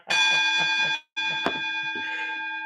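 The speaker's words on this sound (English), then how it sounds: "That's the alarm clock." An alarm clock rings loudly in repeated electronic beeping bursts, a steady pulsing tone that stops briefly for a moment before starting up again, with a short sharp click in the middle.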